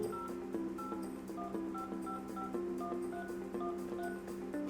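Dialing tones sound on a phone connected to a Panasonic hybrid IP PBX, a steady run of short, evenly spaced beeps over a continuous hum.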